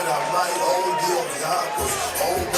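A crowd at an amateur MMA event cheers and roars as a fighter walks out, a loud, dense wash of voices that swells toward the end, with commentary talk running over it.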